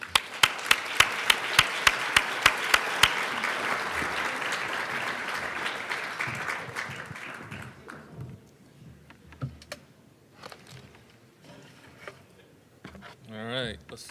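A conference audience applauds to welcome a speaker to the podium. Brisk clapping, with a few sharp claps standing out at first, fills the room and then fades out after several seconds, leaving scattered faint sounds.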